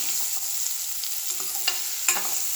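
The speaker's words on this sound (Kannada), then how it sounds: "ಫ್ರೈ ಆಗ್ತಾಯಿದೆ." Tomatoes frying in a pan for a ridge gourd palya, a steady close sizzle with a few light stirring clicks and scrapes throughout.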